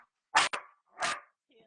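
A pet dog barks twice in quick succession, loud and close, then gives a third drawn-out bark before a faint whimper, with no talking over it.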